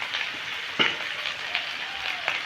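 Soybean and potato curry sautéing in a pan with spice powders, a steady low sizzle broken by a few sharp scrapes of a spatula stirring, close and moderately quiet with no voices.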